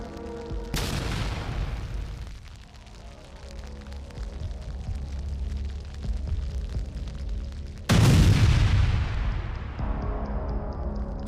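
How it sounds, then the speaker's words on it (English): A drone attack on an MT-LB armored vehicle sets off a powerful explosion: a sharp boom at the start fades into rumbling, then a second, louder blast hits near the end and decays slowly. No voices. "Followed by a powerful explosion."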